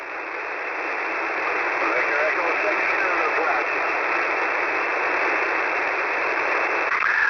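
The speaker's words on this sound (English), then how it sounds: "I think I hear a really light station in there." Band-limited radio hiss fills the clip steadily, with a very faint amateur station buried under the noise on a public service net, barely emerging and never clearly readable.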